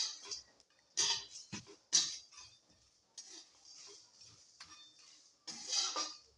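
Dry-roasting spices in a pan with the heat switched off, stirred gently so that sharp clinks and scrapes of a spoon against the pan come in irregular bursts with quiet gaps between them.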